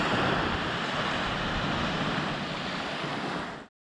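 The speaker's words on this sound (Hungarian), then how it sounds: "És itt van a Pazar-tenger, a legnagyobb látványosság Szártén" Sea waves wash steadily onto the beach at Sarti, Greece, a broad continuous surf roar with some wind, holding loud and even before cutting off abruptly near the end.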